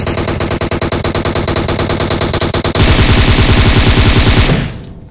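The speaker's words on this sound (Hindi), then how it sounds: "आगे से गोली चलने की आवाज़ आती है दूसरे वाले अपार्टमेंट से" Rapid automatic gunfire in BGMI gameplay, coming from an apartment ahead, rattles loudly and continuously, growing denser and heavier midway before cutting off abruptly into quiet.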